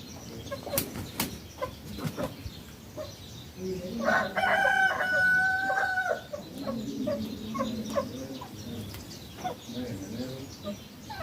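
A large new rooster in a farm compound crows one clear, drawn-out call in the middle. Hens cluck and people talk nearby before and after.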